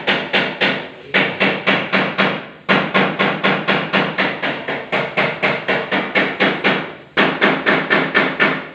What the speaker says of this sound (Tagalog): kaya nilagyan ko ng pako yung tatlong yan